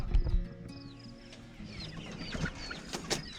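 Chickens and roosters clucking and calling inside a homestead coop, several birds close by with overlapping clucks and a few crowing calls, no talk.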